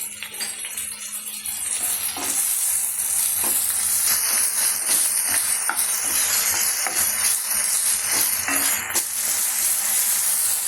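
Chopped shallots and ginger garlic paste sizzle steadily in a pan for mutton sukka, with occasional scraping and stirring clinks throughout, close and continuous with no talking.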